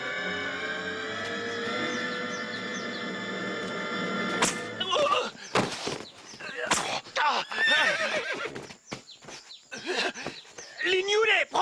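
A horse whinnies amid loud, busy action with voices shouting, after a steady droning stretch; brief thumps and clattering follow.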